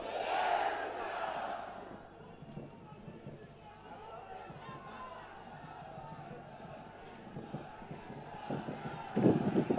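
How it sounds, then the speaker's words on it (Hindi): A large crowd at an outdoor public rally in Nokha, Bikaner chants a religious slogan in unison. The voices are roaring and somewhat distant over a rumbling background, with louder surges near the start and end. "एक बार आप मेरे साथ बोलेंगे, जय श्री राम, जय जय श्री राम।"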